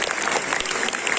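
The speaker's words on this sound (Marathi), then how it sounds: "विद्यार्थ्यांनी जोरदार टाळ्या वाजवायच्या आहेत." Students clapping loudly and continuously at a school prize-distribution ceremony, a dense steady burst of applause with no pauses.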